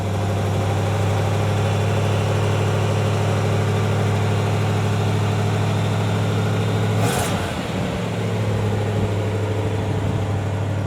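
A 1937 Cadillac Fleetwood engine idles steadily with a deep, even rumble, joined by a brief hiss or rush partway through before the low idle settles back.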